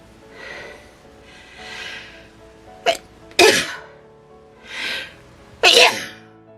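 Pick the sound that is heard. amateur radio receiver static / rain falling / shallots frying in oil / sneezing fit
sneezing fit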